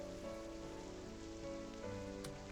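Steady rain pours over a forest in a video game, a continuous wash of drops with a faint tonal game-music hum beneath it and no voices.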